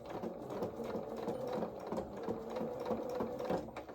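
A sewing machine stitching a pocket flap on coveralls, a soft, steady rhythmic whirring of the needle going up to the top of the flap and reversing, quiet and continuous throughout.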